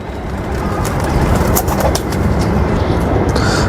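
Golden pigeons coo softly against a dense, noisy background rumble at a pigeon-keeping gathering in Lahore, with no voices.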